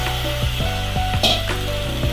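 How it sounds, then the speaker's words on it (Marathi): Soaked whole masoor lentils frying and being stirred in hot oil in a pot, with a steady sizzle and repeated scraping stirs of a spoon at a regular pace. "आणि चांगलं आपल्याला तेलामध्ये मिक्स करायचं"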